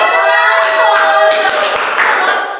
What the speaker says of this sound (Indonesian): tepuk tangan dulu buat semuanya dulu